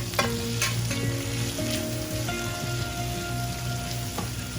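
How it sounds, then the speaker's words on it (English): Chopped tomatoes go into browned onions in a pan for a dry chicken roast, starting a steady sizzle with scraping stirs and a few sharp clinks of a utensil against the pan. "I'm going to now add in all of the chopped tomatoes, and I'm going to cook this"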